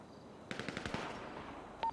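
Rapid burst of automatic gunfire in a GTA RP street shootout, about eight sharp reports in quick succession followed by a lone later shot, moderately loud over a steady background hum.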